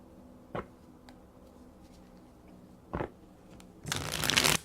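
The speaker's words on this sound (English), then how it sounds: "I'm going to shuffle the cards" Two brief riffling bursts of card shuffling, followed by a longer, louder shuffle near the end, with quiet pauses between.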